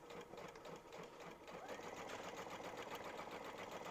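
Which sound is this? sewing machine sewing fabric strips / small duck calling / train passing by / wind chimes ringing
sewing machine sewing fabric strips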